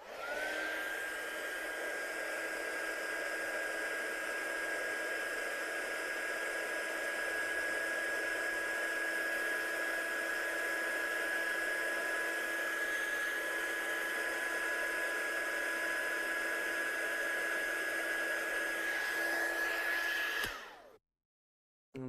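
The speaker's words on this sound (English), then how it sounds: "so we're just going to heat emboss this now." Heat gun melting embossing powder on a handmade card, a loud steady blowing whine held for about twenty seconds before it abruptly cuts off.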